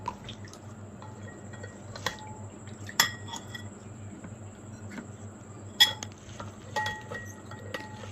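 A spoon stirs Ugadi pachadi in a bowl until the salt dissolves, with neem flowers mixed in. Quiet, close scraping is broken by a few sharp clinks against the bowl, spaced irregularly, with no talking.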